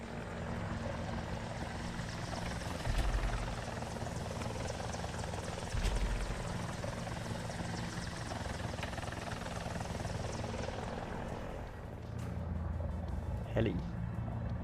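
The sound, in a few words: helicopter in War Thunder video game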